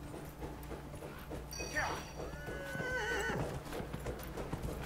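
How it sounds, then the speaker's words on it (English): A horse in the video game Dragon Age: Inquisition, ridden in a horse race, whinnies loudly over a steady clip-clop of hooves, with faint background sounds underneath. "Mount the horse. Ride to the starting gate."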